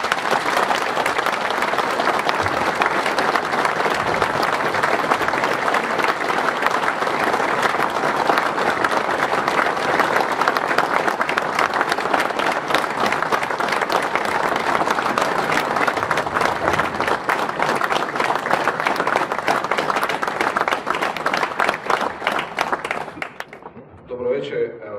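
Sustained audience applause at a Croatian public forum in Koprivnica, dense steady clapping filling the room at near-constant loudness for over twenty seconds before cutting off abruptly at the end.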